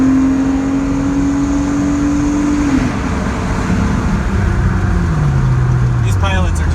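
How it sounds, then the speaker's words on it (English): Honda Pilot engine revving up through its VTEC crossover while driving, a steady engine tone climbing then dropping in pitch as it shifts, loud and close over road and traffic noise inside the vehicle. "Listen to this VTEC crossover"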